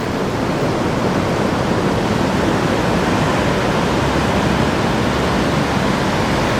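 Steady, dense wash of sea waves on a secluded beach as the tide comes in, a continuous loud roar with no breaks or voices.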